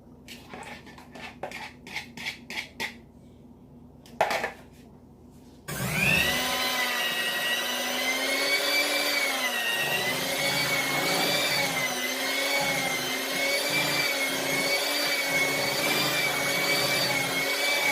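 A few light clinks and taps give way to an electric mixer beating almond cake batter with a milk mixture, a steady loud motor whine that wavers slightly in pitch as it runs on alone.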